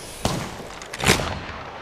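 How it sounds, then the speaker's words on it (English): Gunfire in Apex Legends: two sharp, fairly close shot cracks about a second apart, each a brief broadband burst, the second somewhat stronger, over quiet game ambience. "Shots fired with me."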